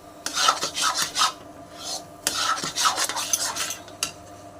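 A spoon scrapes and stirs bread barfi mixture in a heavy non-stick kadhai, producing repeated rasping strokes in an uneven rhythm, close and moderately loud with no voices.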